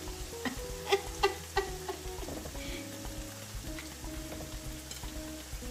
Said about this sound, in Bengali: এখন আমি এতে দিয়ে দিব ক্র্যাব।